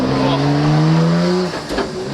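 A Nissan R34 GTR with an OS Giken sequential transmission drops through the gears, its loud, close engine note sliding steadily lower before a quick rev blip as the next gear goes in.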